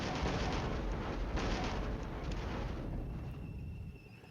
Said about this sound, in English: a devastating artillery strike on that Hex